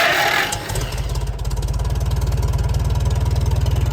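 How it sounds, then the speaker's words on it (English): A Farmall M tractor engine cranks briefly, then catches and settles into a steady, rhythmic low chugging idle, loud and close with no talking. "Then you turn on your ignition."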